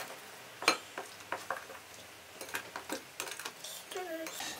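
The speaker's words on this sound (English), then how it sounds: "Mixy, mixy, mix." Banana cake batter being mixed in a bowl, heard as irregular scraping and clinking strokes of a utensil against the bowl, close and moderately loud, with a few sharper clinks and light kitchen handling noises between.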